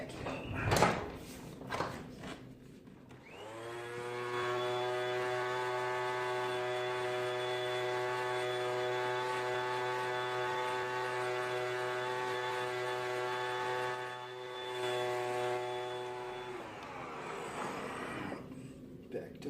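Vacuum cleaner running in a guitar workshop during an acoustic guitar build, switched on after a few knocks, a steady close tonal whine held for about thirteen seconds before spinning down.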